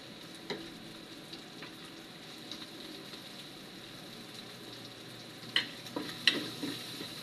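Onion frying in a pan for spaghetti sauce, a quiet steady sizzle with a few sharp scrapes and taps of a utensil near the end.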